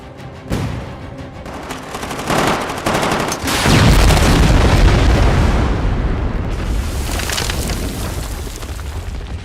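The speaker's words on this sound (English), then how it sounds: "You're not going to pick up a grenade that just got thrown. You're going to get the hell away from it." A thrown grenade explodes in a combat film scene: sharp bursts and pops give way to a heavy, deep boom that rolls on as a long, loud rumble, with no voices.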